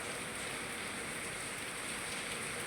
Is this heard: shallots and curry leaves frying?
no